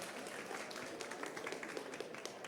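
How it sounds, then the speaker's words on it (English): Audience at a youth session for global action applauds, a faint, steady patter of clapping hands heard from a distance with no other sound over it. "Please give a applause to him."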